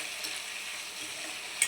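Tomato and onion with salt frying in a pan for a drumstick stir-fry, giving a soft, even sizzle that stays steady and fairly quiet, with a faint clink at the very end.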